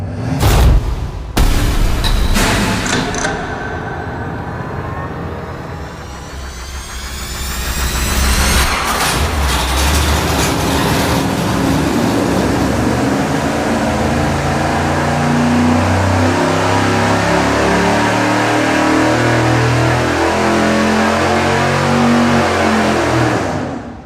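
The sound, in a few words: 598ci V8 engine revving on a dyno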